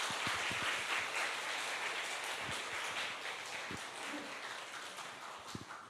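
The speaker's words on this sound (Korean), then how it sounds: "우리 박수로 환영해 주시기 바랍니다." A church congregation applauds during a Korean Sunday worship service, a soft, steady wash of many hands clapping together that stays fairly quiet and even throughout, with no voices rising above it.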